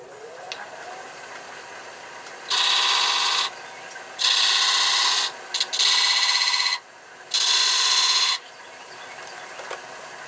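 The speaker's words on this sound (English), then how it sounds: "It's just my parting tool rubbing in a few lines." Parting tool rubbing accent lines into spinning wood on a lathe, heard as four loud, sustained bursts of scraping friction, each roughly a second long with short gaps between.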